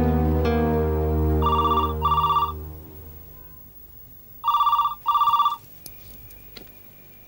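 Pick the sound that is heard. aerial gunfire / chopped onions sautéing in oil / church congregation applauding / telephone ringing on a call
telephone ringing on a call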